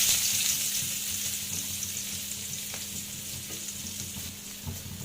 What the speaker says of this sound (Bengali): এখন পেঁয়াজগুলো দিয়ে দিই।